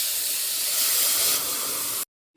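Milk pouring into a pan of vermicelli roasted in ghee, heard as a steady, loud hissing rush that swells midway and then cuts off abruptly after about two seconds.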